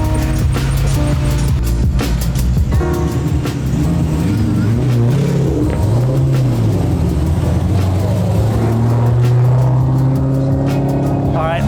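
Loud car engine revving hard as it pulls away doing a heli spin, with rising and falling engine pitch over a constant throaty roar and voices talking underneath.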